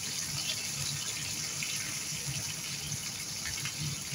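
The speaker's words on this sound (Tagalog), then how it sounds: "So, may add water tayo dahil sobrang lapot nito." Water pours steadily into a pan of chicken afritada thickened with tomato paste. It makes an even, continuous hiss and splash that sounds close and moderately loud.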